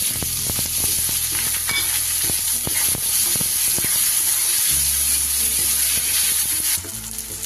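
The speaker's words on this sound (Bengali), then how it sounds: "আর দিয়ে দেব মাঝারি সাইজের দুটো পেঁয়াজ কুচি" Two medium chopped onions frying in hot oil in a pan for a Bengali loitya (Bombay duck) fish curry, a loud steady sizzle with scattered scraping stir strokes and clinks throughout.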